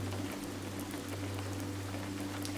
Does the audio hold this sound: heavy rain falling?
yes